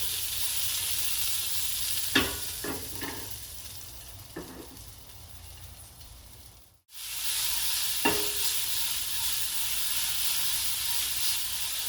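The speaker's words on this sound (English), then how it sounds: "I just sear them a little bit," Tomatoes searing in a hot pan as a grilled chicken salad is prepared, giving a steady hiss of sizzling with a few sharp scrapes and clatters, and a brief dropout partway through.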